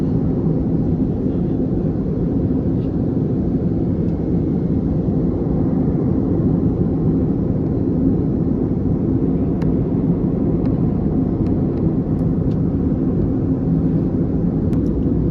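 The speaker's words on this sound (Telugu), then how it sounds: "ఫ్లైట్ అలా స్పీడ్ పెరుగుతుంది." Airliner cabin on a Chennai to Vizag flight, a constant loud broadband engine roar and rumble that holds steady without pause, with a few faint ticks above it.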